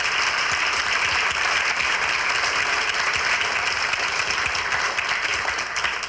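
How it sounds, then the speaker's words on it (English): Sustained applause from an audience at a school FCCLA event honoring the staff, a dense even wash of clapping that holds steady at full strength for about six seconds. "Give yourselves a round of applause"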